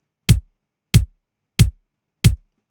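Four punchy kick drum hits processed with mixing plugins, evenly spaced and alone, each with a heavy low thump and a sharp click on top that stops short.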